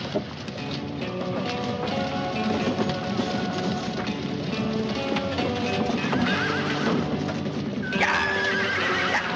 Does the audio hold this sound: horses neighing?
yes